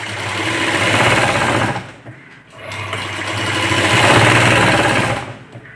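A sewing machine stitches fabric strips for a blouse latkan, giving two loud, close bursts of rapid mechanical whirring separated by a short pause, with no voices.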